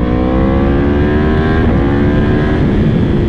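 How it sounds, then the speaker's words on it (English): A Yamaha R1M motorcycle engine roars loud and close, its pitch climbing and sliding under heavy wind buffeting, with a sharp crackle midway that could be a backfire pop. "Oh, we're getting some pops and backfires."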